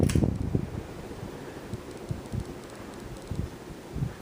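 A Hampton Bay Jericho 52-inch ceiling fan turning at medium speed, a soft whooshing hum with faint rhythmic low thumps from the blades, steady and fairly quiet throughout.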